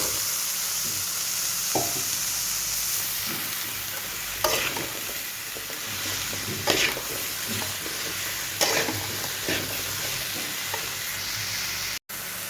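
Bottle gourd pieces stir-frying in a pan with mustard seasoning, a continuous close sizzle broken by several scraping stirs of a spatula, no talking.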